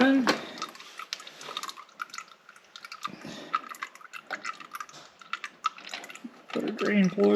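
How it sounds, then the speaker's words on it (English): Transmission fluid drips from the drain hole of a Polaris RZR during a fluid change, a series of small irregular drops patters into a catch pan, close up, with faint shop noise and occasional louder handling sounds. "And there's dripping."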